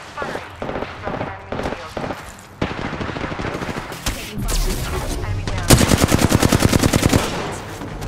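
Rapid automatic gunfire from the Apex Legends video game, bursts of shots early then sustained fast-rhythm firing near the end, loud and close over game effects and background voices.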